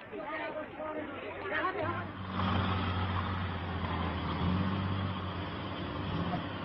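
Several hundred Soviet-supplied trucks rumble as a steady low engine drone through the jungle, with a babble of voices in the first couple of seconds before the motors dominate at constant loudness.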